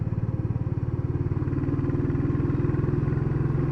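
A Royal Enfield Classic 350 motorcycle rides up a narrow country road near Logie Kirk and Sheriff Muir, its single-cylinder engine thumping in a steady, low rhythm that swells slightly louder as it climbs, with no talking.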